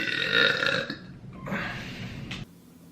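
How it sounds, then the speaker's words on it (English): A single long, loud, gurgling human burp rings out close up, then trails off into quiet. "I don't want to smell your burp"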